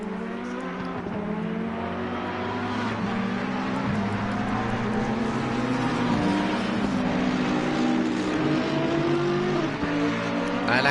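Race cars on the wet Imola circuit in the Pro GT racing game roar loud and steady, their engine notes rising and falling through gear changes as several cars run close together, with no one speaking.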